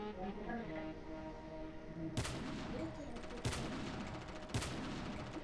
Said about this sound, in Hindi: मैंने फायर किया, पर उन्हें बुलेट लग ही नहीं रहता